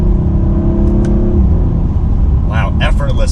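A 2021 Audi RS5 Coupe engine hums and rumbles steadily under light throttle while driving, with someone talking over it near the end.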